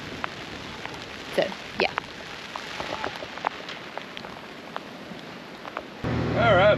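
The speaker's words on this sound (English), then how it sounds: "It is raining pretty hard." Heavy rain pours down aboard a sailboat moored off Antigua, a steady dense hiss with scattered drips and taps close by, briefly under a short spoken remark near the end.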